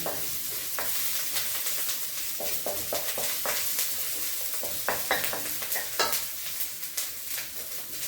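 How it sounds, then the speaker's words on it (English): Aromatics sizzle in a hot pan while being stirred, a constant close frying hiss punctuated by frequent clicks and scrapes of the utensil, with no talking. "So you want to let the aromatics cook for about 30 seconds. And stir them around the pan."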